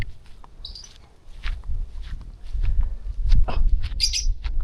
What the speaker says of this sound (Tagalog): Ayun, daming ibon oh.